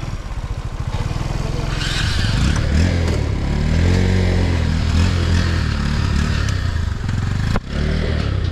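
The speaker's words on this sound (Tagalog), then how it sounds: "Kunin mo lang, galitin mo lang yung makina." A motorcycle engine revs hard and loud up close, rising and falling in pitch with some clattering mixed in.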